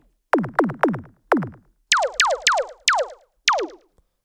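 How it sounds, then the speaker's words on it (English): A tech house laser synth effect fires in eight sharp zaps, each a bright tone sweeping quickly downward, four lower ones followed by four higher ones in a quick rhythm, loud and dry with no voices. "which is the Tech House laser you can hear in so many tracks."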